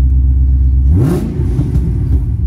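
Ford Mustang Shelby GT500 Super Snake tribute with a special exhaust, a deep loud idle that rises into a sharp rev, then settles back to a rumbling burble close by.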